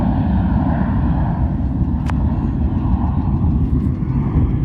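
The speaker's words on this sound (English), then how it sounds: "Got dueling takeoffs too." Two airliners taking off together at Charlotte airport, a loud, steady, broadband jet engine roar heard from a distance, constant throughout with no talk.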